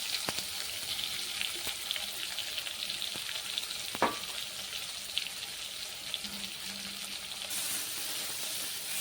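Cleaned, cut shrimp fry in a pan for Bengali jhinge posto, a continuous hiss of sizzling oil with a few sharp spatters and a clack of stirring, close and unaccompanied by speech.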